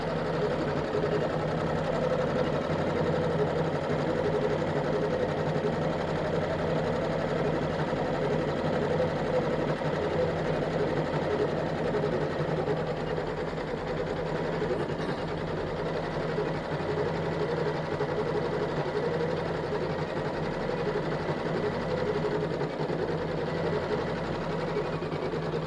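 A CM17 embroidery machine runs a continuous quilting pattern, its steady, even mechanical hum and rapid needle drone holding unbroken at a moderate level for the whole stretch, with no talk.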